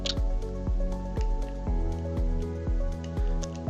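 Water from a bucket is poured into a crucible in the Minecraft video game, giving repeated loud, close liquid splashing and dripping bursts in a steady rhythm of about seven squishy splashes.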